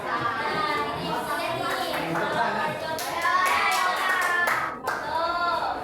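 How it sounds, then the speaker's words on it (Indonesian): An audience claps hands at an indoor digital ethics outreach session, a continuous crackle of many hands with children's voices and other talk mixed in. "Tepuk tangan ya, coba."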